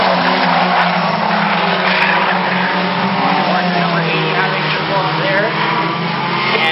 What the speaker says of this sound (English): Two laps remain here in heat race number 1 for the Bill Jones Comp 4 division